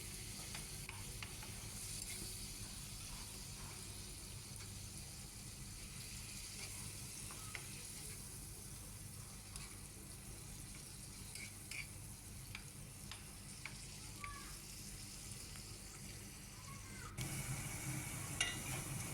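Tomatoes cooking with spices in a pot on a home kitchen stove, a steady soft sizzle with occasional faint stirring scrapes, continuous and quiet throughout.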